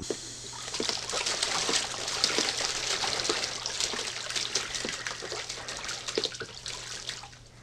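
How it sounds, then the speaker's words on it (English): A Muscovy duck bathing throws water about with continuous splashing, trickling and dripping that stays close and steady, with no voices. "She's making a real mess here. The water, I don't know if the video is showing here how much water's flying everywhere."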